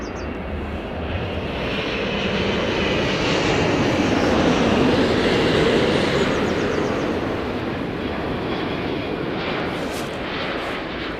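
An Airbus A350 airliner takes off on departure from runway 09, a loud, sustained engine roar that swells to a peak midway and then slowly recedes, with no speech.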